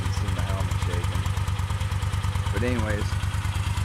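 Moto Guzzi Nevada 750 motorcycle engine idling close by with a steady, even pulsing throb, while someone talks over it.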